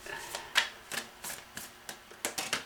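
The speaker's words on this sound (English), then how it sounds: "My fingers need to be just slightly larger to shuffle this way." Tarot cards are shuffled by hand in a string of crisp, close riffling snaps that come at an uneven, stop-start pace, with no talking over them.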